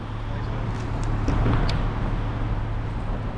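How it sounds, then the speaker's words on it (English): A car drives past on a city street with a steady low engine and tyre rumble that swells briefly near the middle, set against general traffic noise. "Oh man, what a car, bro."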